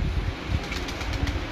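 Red-eyed breeder pigeons cooing softly with brief bursts of wing flapping, close by and continuous for a moment.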